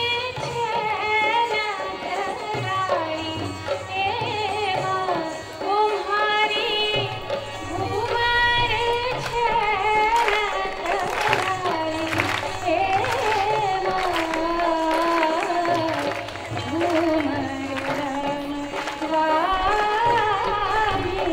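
A Ghoomar Rajasthani folk song performance plays loudly and continuously, with melodic singing over steady rhythmic accompaniment at a quiz show held at a government women's engineering college in Ajmer.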